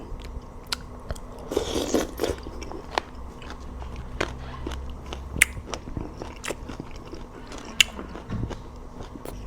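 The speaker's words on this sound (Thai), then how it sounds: "มากินลาบมักจองกัน" Close, quiet crunching bites and chewing of Lao laab made with mak jong, irregular crisp crunches scattered over soft mouth noises with no talking.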